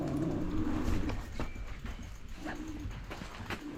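A puppy whimpers and yips nearby outdoors in soft, broken bursts over a noisy background.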